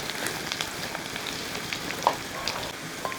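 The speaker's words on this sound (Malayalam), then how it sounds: "പാതി വെളുത്തുള്ളി ഇട്ട് ഒന്ന് ഇളക്കി കൊടുക്കുക" Halved garlic cloves frying in hot oil in a pan while stirred, a steady crackling sizzle with sharper pops throughout, no voices.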